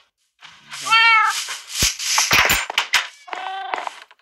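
A cat in the game Minecraft gives a couple of clear meows, one drawn out and one shorter, close up and loud, with clicks and brief game noises between them.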